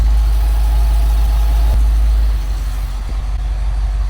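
A Ford Bronco engine idles steadily with a deep, heavy low rumble, close and loud, holding an even drone throughout with no talk and a slight dip in level partway through.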